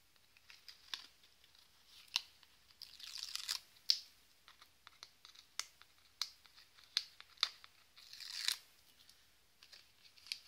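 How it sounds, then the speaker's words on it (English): Adhesive backing being peeled off a sheet for the inside of a wedding keepsake book box cover, heard as a run of crisp crinkling rips and crackles with sharp bursts scattered throughout, close and fairly quiet. "So I peel this off."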